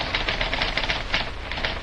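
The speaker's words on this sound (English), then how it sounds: "the irrepressible Judy Price, his secretary, is typing a letter." A secretary types a letter on a typewriter, a quick run of crisp, close mechanical key strikes clattering steadily with no voices.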